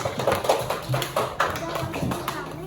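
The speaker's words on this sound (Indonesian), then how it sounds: "Beri tepuk tangan untuk kelompok 1." Students in a primary school classroom clap for a group in sharp, uneven bursts, with voices talking over the claps from start to finish.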